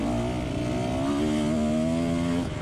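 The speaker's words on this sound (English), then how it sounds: "And the bike's running better this week." Off-road motorcycle engine running steadily up close on a muddy trail ride, a loud continuous mid-pitched drone with slight shifts in pitch and no talking.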